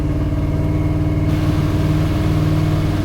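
A cammed V8 Chevy squarebody truck roars under power braking for a burnout, a loud, loping engine held at steady revs that climb and grow harsher partway through, with no voices.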